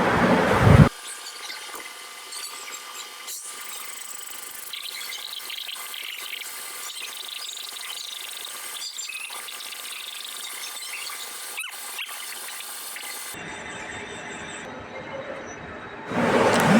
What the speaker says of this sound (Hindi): अब हम जो है ना इसको ड्रिलिंग हो गई हमारी, आप ड्रिलिंग देखें इसकी मशीनिंग।